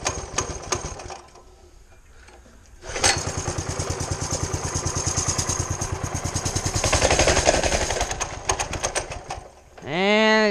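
A mini bike's small engine cranks with a few short bursts, then catches and runs with a buzzing, uneven rhythm for several seconds, sputtering and fading out as it dies; a rising whine follows at the end.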